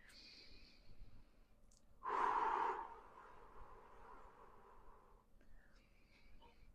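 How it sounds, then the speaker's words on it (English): A single long, deep exhale during a yoga pose, loud and close for about a second, then trailing off softly, with quiet ambient sound around it. "Add 3 long breaths."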